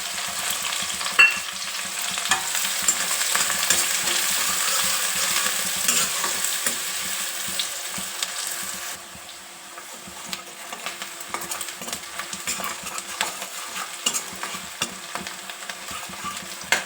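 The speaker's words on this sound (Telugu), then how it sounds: "ఉల్లిపాయ మంచిగా వేగిందండి" Sliced onion sizzles in hot oil in a pan with cumin seeds while a spoon stirs and scrapes against the metal, a steady close frying crackle with irregular clinks, quieter for the last half.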